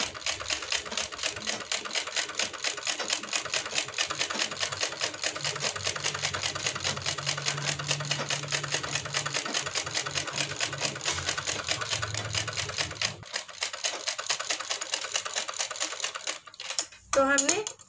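A sewing machine stitches a wavy lahariya design on a Patiala salwar hem, running in a long, steady, close rhythmic chatter for most of the clip before stopping, followed by a brief clatter.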